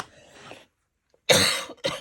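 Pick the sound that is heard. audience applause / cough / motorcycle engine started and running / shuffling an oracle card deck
cough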